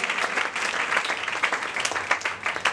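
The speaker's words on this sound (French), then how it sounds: "Est-ce qu'on peut acclamer pour la Alléluia" A church congregation applauds in a dense, continuous burst of clapping with scattered cheers, loud and close throughout.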